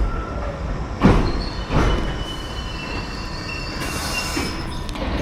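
London Underground Piccadilly Line train pulling into a station, a loud rumbling rush with two sharp bursts early on and a sustained high squeal of wheels and brakes as it slows.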